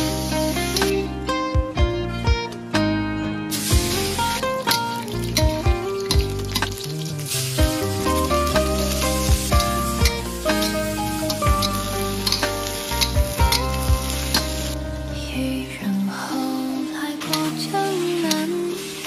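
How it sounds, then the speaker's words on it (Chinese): Green beans and potatoes stir-fry in a pan, giving a continuous close sizzle with occasional stirring scrapes, set against a tonal musical background throughout. "现在我先来炒一个豆角，还有土豆"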